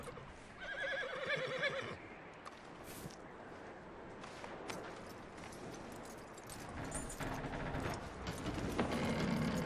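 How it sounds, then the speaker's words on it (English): A horse neighs in Red Dead Redemption 2, a clear whinny near the start followed by snorting, hoof movement and clattering game ambience over a continuous background. "That looks like a decent horse."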